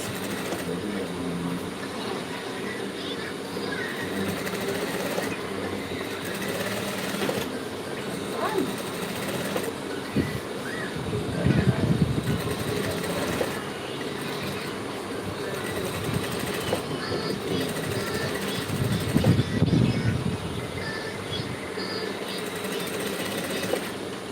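A sewing machine runs in stretches while stitching a pencil skirt during a live class, a rhythmic mechanical chatter that rises into louder bursts around the middle and later, with background room noise.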